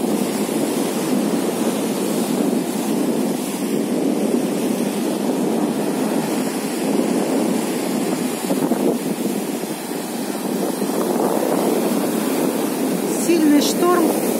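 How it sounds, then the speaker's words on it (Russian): Stormy sea waves break along the shore at Golubitskaya on the Sea of Azov, a continuous surf roar mixed with strong wind buffeting the microphone, loud and steady with brief swells. "Сильный шторм."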